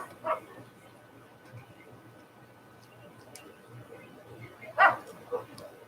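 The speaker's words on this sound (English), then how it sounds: "the little dog wants back in" A small dog outside a house barks to be let back in: a couple of short, sharp yips near the start and again near the end, fairly faint over a low steady hum, with no talking.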